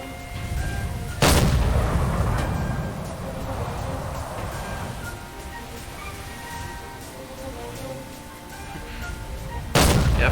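Two loud, sharp deck-gun blasts from a submarine in Silent Hunter 4, one near the start and one near the end, separated by a long rumbling background of engine and sea noise.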